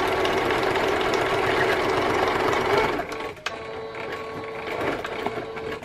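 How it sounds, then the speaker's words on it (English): A sewing machine stitches an extra large tag insert, its needle chattering in a fast, steady rhythm at close range. Partway through it slows and lightens to a softer whirring run, with no talking. "Let's just go ahead and sew it."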